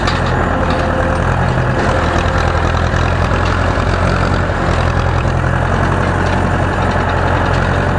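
Ursus C 360 tractor engine running under heavy load while harrowing a rough, potholed field, a loud steady low diesel drone close by with no talk.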